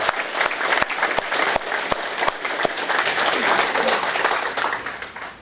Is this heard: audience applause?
yes